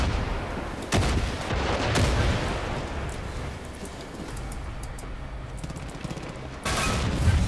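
Rumbling explosions and gunfire in the first-person shooter Far Cry 5, a loud blast followed by a sustained roar of distant shots and crackling detonations.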